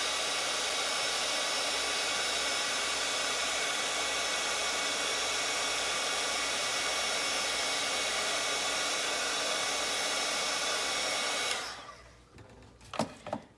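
A heat tool blows a steady, loud, even whoosh while melting embossing powder on a paper doll piece. The whoosh runs unbroken for about eleven seconds, then shuts off, leaving a few faint clicks and handling sounds.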